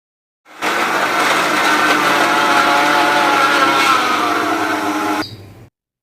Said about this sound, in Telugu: ఇప్పుడైతే మిక్సీలో వేసి ఈ ఉప్పును మొత్తం మెత్తగా పట్టుకోవాలి.